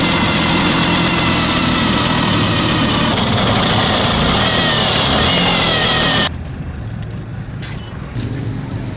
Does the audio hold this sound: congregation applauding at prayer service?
no